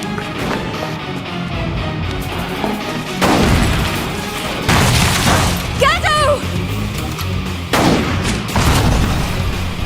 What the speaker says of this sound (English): An ether rifle!